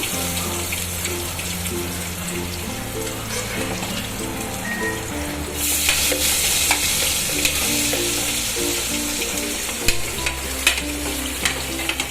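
Potatoes sizzle and fry steadily in a pan over a low gas flame with asafoetida for a stuffed onion, potato and brinjal curry, with a continuous close hiss that swells partway through and occasional stirring clinks.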